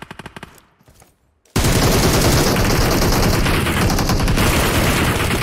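Bursts of automatic gunfire from the PUBG Mobile battle royale game, loud and continuous after a brief quieter stretch of scattered shots, filling the whole clip with dense rapid fire.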